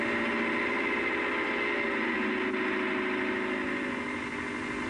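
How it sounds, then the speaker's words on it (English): A Leyland 344, a 55 horsepower tractor, pulls a Bamford Kverneland 4-furrow 14-inch plough, its engine running as a steady mid-pitched drone that stays even and loud throughout with no talk over it. "The Leyland 344, the 55 horsepower tractor, pulling a Bamford Kverneland's 4-furrow 14-inch plough, an implement normally reserved for larger tractors."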